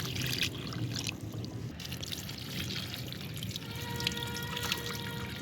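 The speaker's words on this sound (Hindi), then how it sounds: "आए तो जी भर के पानी डालना है" Water pours from a can onto dry soil in potted plants, a continuous splashing trickle with drips, moderately close and alone.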